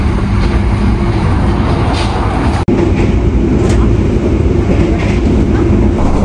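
Heard from inside the Argo Wilis passenger train on the Surabaya to Jakarta route, a loud, continuous rumble and rattle fills the carriage, with one momentary dropout partway through.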